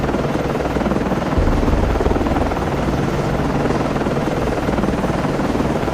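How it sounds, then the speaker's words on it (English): Aircraft launching from a ship in the submarine game Cold Waters, a loud continuous helicopter-like rotor drone and engine roar that swells briefly, with no talk. "Con, FLYCO, launching aircraft."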